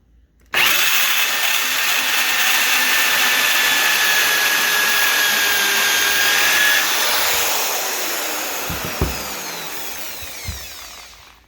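A power drill runs in reverse to cut an aluminum primary throttle-plate bushing on a Quadrajet carburetor: one loud, continuous whine lasting about ten seconds, easing slightly toward the end with a couple of small knocks before it stops.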